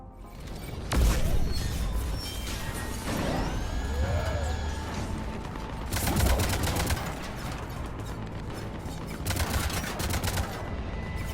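Cannons fire during a battle in Mass Effect 3's Omega DLC, with heavy blasts bursting out of dense, continuous combat noise laced with mechanical creaks and whirs.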